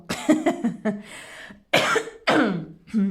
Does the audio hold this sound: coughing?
yes